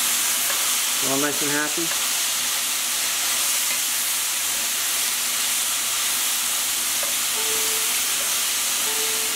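Mushrooms and mixed market vegetables for a pot pie sizzle and steam in a pan, a dense even hiss throughout, with a brief voice speaking near the start.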